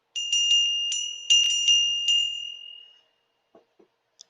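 A small handbell from a flea market rings in several quick clear strikes, each a bright metallic ding that rings on and decays, then fades to near silence with faint handling noises.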